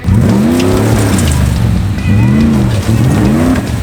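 A Nissan Patrol 4WD crawls off-road in low range with lockers engaged, its engine droning and rising in pitch through two revving surges, loud and close, with no talk over it.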